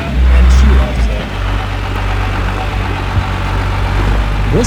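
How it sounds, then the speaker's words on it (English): Cummins-swapped Land Cruiser on 42-inch tires with 30-year-old axles, its diesel engine running with a deep, steady low rumble close by, under someone talking. "This is a Cummins Land Cruiser on 42s, and we're going to try it"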